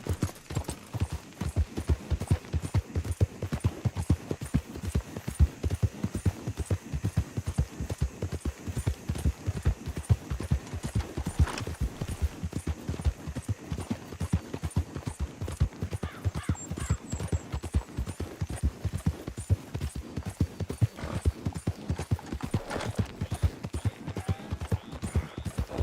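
A horse in the video game Red Dead Redemption 2 clip-clops along at a steady trot. The even hoofbeats go on throughout, fairly soft, with a little ambient noise underneath.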